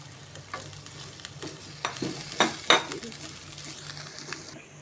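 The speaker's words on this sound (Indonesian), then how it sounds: "Lalu kita aduk rata sampai dia nanti agak lembut." Cauliflower and cabbage stirred in a hot pan for a vegetable stir-fry, with scrapes and clatters of the spatula rising above a steady low sizzle, a few sharper knocks near the middle.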